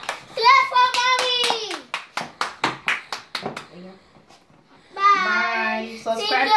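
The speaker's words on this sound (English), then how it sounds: "Clap for mommy." A child claps at home, a quick run of about a dozen sharp, close hand claps between bursts of excited voices talking.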